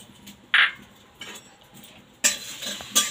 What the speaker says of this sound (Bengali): একটু শুকনো করাতে এগুলো নেড়ে নেবো